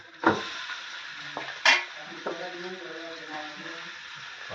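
Hot oil sizzles steadily as spices temper for chicken cooked on a wood-fired stove, with a few sharp clinks of a spoon against the pan.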